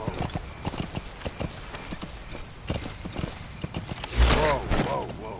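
Hooves of a ridden horse in Metal Gear Solid V: The Phantom Pain clip-clop at a steady walking rhythm, moderately close, under voices, then a louder whinny and snort near the end.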